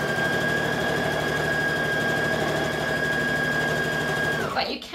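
A sewing machine stitches fabric for a Vogue 9345 garment in a steady, fast whirring run with a constant motor whine, stopping abruptly just before the end.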